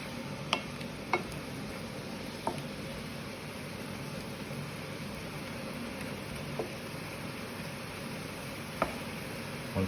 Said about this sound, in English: Let that simmer away for a while.